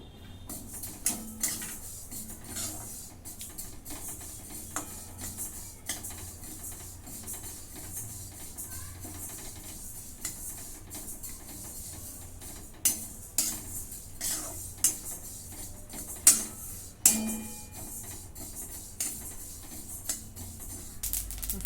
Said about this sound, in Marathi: इथं मी एक फुलपात्र तिळ घेतलेलं आहे ते भाजून घेते